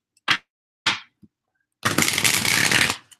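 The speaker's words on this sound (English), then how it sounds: "I love hearing cards shuffle too" A deck of playing cards being shuffled up close: a few sharp taps and snaps, then a dense riffling burst lasting over a second before stopping, with no voices.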